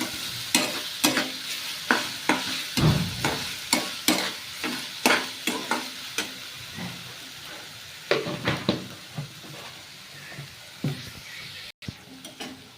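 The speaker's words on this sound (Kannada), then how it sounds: "ಸಾಲ್ಟ್ ಹಾಕ್ಬಿಟ್ಟು ಅದನ್ನು ಫ್ರೈ ಮಾಡ್ಕೋಬೇಕು" Onion and tomato with salt fry in a pan for pudina chutney, with steady sizzling broken by repeated close scrapes and knocks of stirring. There is no talk.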